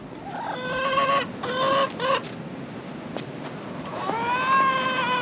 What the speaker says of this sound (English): Chickens, they don't remember snow too well.